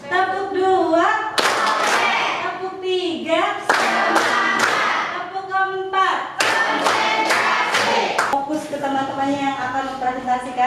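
A primary school class claps along in a counted clapping game, loud bursts of many hands in rhythmic groups alternating with children's and a teacher's voices.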